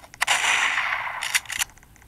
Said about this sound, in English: He has an awesome machine gun.